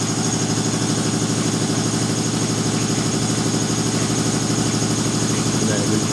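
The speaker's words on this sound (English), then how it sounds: "Cue the compressor." An air compressor runs steadily in a workshop, a loud continuous mechanical drone with a fast regular pulsing throb that holds unchanged from start to finish.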